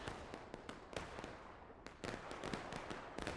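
Musket volleys crack out in War of Rights, a scattered run of sharp distant shots in irregular bursts, some clustered and some isolated, against a faint battlefield background.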